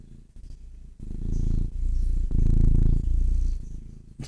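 A cuddly domestic cat purrs steadily up close, a low continuous rumble that swells louder through the middle, with no other sounds.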